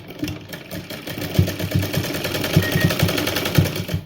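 A sewing machine stitches lace onto the edge of a chunni, its needle running in a steady, fast mechanical chatter with a low motor hum, close and continuous with no talk.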